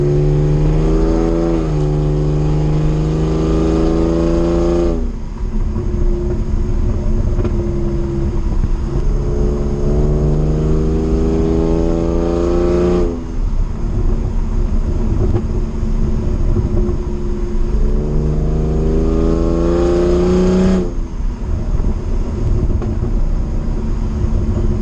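BMW E46 fitted with eBay exhaust headers revs hard in repeated long pulls, the engine note climbing through each rev before dropping back to a rough idle, loud and close throughout with no talking.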